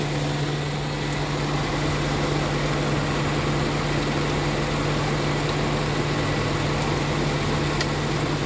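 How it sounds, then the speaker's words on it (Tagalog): Honda Fit car engine idling steadily after being started during thermostat replacement work, a constant low hum with a strong steady drone throughout, no speech. "Okay, so start na makina guys."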